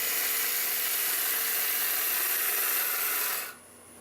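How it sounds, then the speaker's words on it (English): Steady, loud scraping hiss of a 1/2 inch gouge cutting wood on a lathe while turning a hat, continuous for a few seconds and then cutting off abruptly. "They're pretty decent sized cuts for a 1/2 inch gouge."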